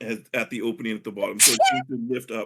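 A single sharp sneeze bursts out in the middle of continuous conversation at a tabletop role-playing session, loud and close, with talking before and after it.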